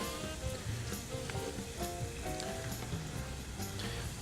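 Pork mince wontons fry in hot oil with a dense, steady sizzle and crackle. The noise runs unbroken throughout, close by, with no voices over it.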